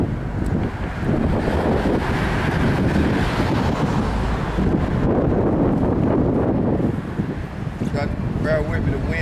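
Strong outdoor wind buffets the microphone in a loud, continuous roar and rumble that barely lets up, with gusts swelling throughout.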